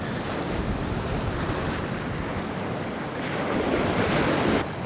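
Waves breaking on the Bristol Channel shore as the sea grows lumpy, a steady wash of surf mixed with gusting wind buffeting the microphone, continuous and fairly close.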